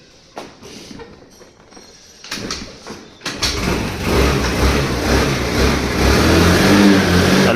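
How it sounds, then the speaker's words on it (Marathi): A scooter that would not start in the cold sputters and catches after a few tries, its engine then revving loudly and steadily up close. "मी पहिले स्कूटी चालू करायसाठी आलो आहे खाली"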